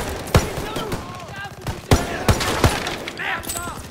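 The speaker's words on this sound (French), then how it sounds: "Mitrailleuse dans l'escalier aussi!" Machine gun fire in the World War II video game Call of Duty: WWII, loud sharp reports spaced irregularly over a busy battle background, with voices shouting in between.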